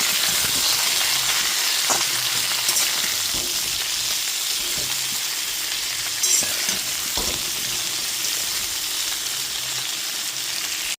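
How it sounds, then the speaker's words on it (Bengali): Vegetables frying in a pan with salt and turmeric for a light Bengali fish curry, a steady loud sizzle and hiss with occasional scraping stirs and soft knocks, close and continuous, no talking. "এবার লবণ আর হলুদ গুঁড়োটা দিয়ে খুব ভালো মতো মিশিয়ে নেওয়ার পর সবজিগুলোকে ভালো করে ভেজে নেব।"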